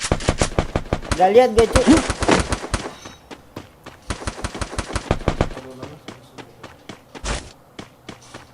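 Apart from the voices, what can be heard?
gunfire in a shooting video game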